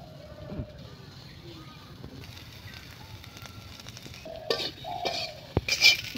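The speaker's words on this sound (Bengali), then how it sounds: "দেখুন এই যে এখন একটু হালকা লাড়াচাড়া দিয়ে তারপরে আমি নামায় নিই" Small fish and mustard greens being gently stirred in a pan, with soft scraping and a few light metallic clinks growing busier toward the end, while a voice talks faintly in the background.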